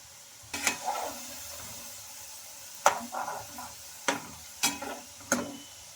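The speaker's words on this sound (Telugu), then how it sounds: "వీటిని ఒక నిమిషం పాటు కదపకుండా అలానే ఉంచుకోవాలండి తర్వాత అయితే కదపాలి స్పూన్తో" Ration-rice kurkure fries in oil in a pan under a soft background sizzle, broken by several sharp spoon scrapes and stirring strokes at irregular intervals.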